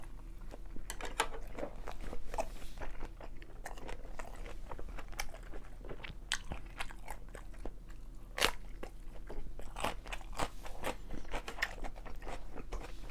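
Close, crisp crunching and chewing of bossam made from tender pork belly, eaten with crunchy napa cabbage geotjeori kimchi, with repeated irregular bites and no talking.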